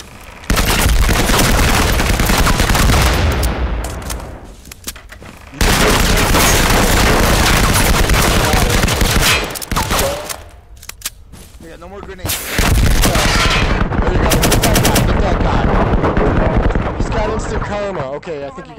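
Gunfire in the video game Firewall Zero Hour comes in long, loud, dense bursts of rapid shots and booming blasts, broken by short lulls, with voices talking over the combat.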